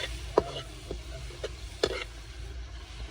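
Okra frying in a pan as red chili, salt and turmeric are stirred in. A low sizzle runs throughout, broken by a few scraping spoon strokes, two of them a little sharper.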